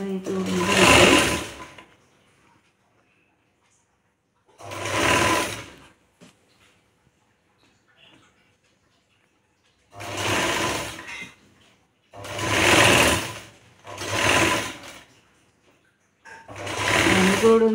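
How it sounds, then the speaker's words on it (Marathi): A sewing machine stitches a sleeve seam a quarter inch from the edge, running in separate loud close bursts of a second or two each, with silent gaps between. "पाव इंच अंतर ठेवून बाई जोडून घ्यायची."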